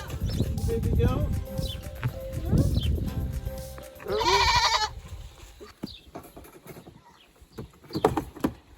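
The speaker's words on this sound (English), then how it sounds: "You wanna see the baby goat?" Baby goat on a homestead bleating in several short, wavering cries, one sharp high call standing out, mixed with people talking nearby and some shuffling and hoof noise.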